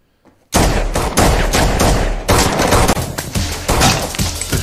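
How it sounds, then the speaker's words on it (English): Heavy gunfire from the 2017 film John Wick: Chapter 2, including an AR-15, in underground catacombs: after a brief hush, dense loud bursts and rapid repeated shots go on almost without pause, booming and close. "Just running and gunning."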